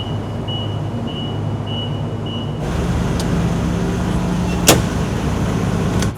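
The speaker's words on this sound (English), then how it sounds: "We're about to put it on this forklift" A forklift runs in a workshop while moving a painted skeleton bucket, a steady low engine drone with faint beeps early on, then louder rumbling and a sharp metallic clank near the end, with no talking.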